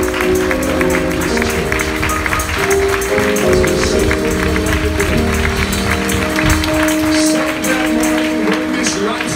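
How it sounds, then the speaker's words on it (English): A congregation claps along at a church service for a going-home memorial, a steady and loud beat of many hands mixed with singing and voices all the way through. "let's clap our hands and give God a mighty hand"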